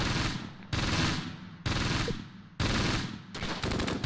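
Anti-tank gun fire in the Close Combat: Gateway to Caen video game, four loud, close blasts in quick succession about a second apart, each decaying into a rumbling tail, the last overlapped by rapid automatic fire.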